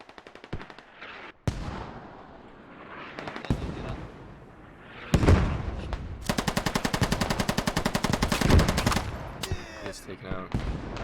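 Rapid machine-gun bursts ring out in a Squad tournament match, a long, loud, fast-rattling stretch of automatic fire following scattered single gunshots, with further distant shots echoing afterward.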